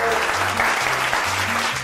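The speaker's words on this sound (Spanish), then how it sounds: "Un aplauso para Jean-Pierre Gutiérrez, que estuvo con nosotros." Studio audience on a cooking show applauds steadily, continuous clapping over a low musical hum, moderately loud and sustained throughout.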